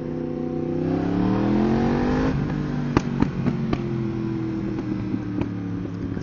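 A Yamaha MT-10 motorcycle accelerates hard, its engine note climbing steadily through the gears with a brief shift, loud and close, followed by sharp clicks and a steadier drone.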